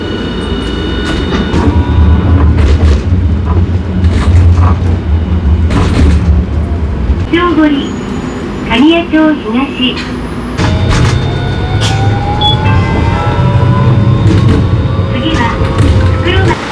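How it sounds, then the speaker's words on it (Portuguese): A tram in Hiroshima rumbles steadily with low rolling noise and mechanical whines and squeals, close and continuous, while people talk over it throughout. "Descemos aqui do bonde, pessoal."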